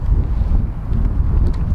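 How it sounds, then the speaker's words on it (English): Wind gusting across a Nordhavn 55 trawler at a dock, a loud continuous low buffeting roar against the microphone with no voices. "It's windy now."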